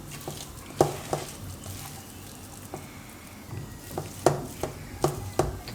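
Bitter gourd fritter batter is mixed in a bowl, giving soft wet stirring with scattered sharp clicks of a spoon against the sides at an uneven pace, quiet and close with no voices.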